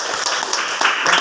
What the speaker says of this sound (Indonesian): Oke, tepuk tangan teman kalian dong.